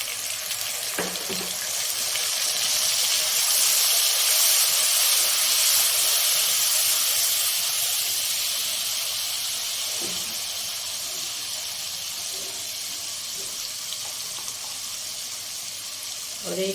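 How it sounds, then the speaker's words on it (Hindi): A pan of frying masala hisses and sizzles steadily when water is poured in while a kofta curry cooks, a loud, broad, continuous sizzle that slowly eases over about seventeen seconds, with faint clinks underneath. "थोड़ा सा हम पानी डाल देते हैं ताकि जो मसाला हो जले नहीं।"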